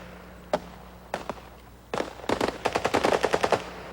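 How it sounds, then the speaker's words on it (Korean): Machine gun fire during a Turkish commando combat exercise, a few isolated sharp shots followed by rapid bursts of repeated cracks, loud and close. "첫 총성이 울리면 부대는 즉각 반격을 가한다."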